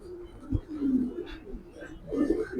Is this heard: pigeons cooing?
yes